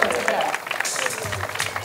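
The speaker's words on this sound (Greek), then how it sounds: "Χειροκροτήστε λίγο, χειροκροτήστε." An audience claps at a Mr. & Miss Beauty 2008 pageant in a Cretan club, with light, scattered applause and crowd noise under a presenter's voice.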